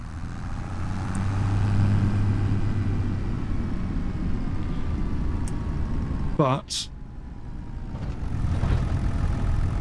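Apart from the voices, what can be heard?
tractor engine throttling in Farming Simulator 25 video game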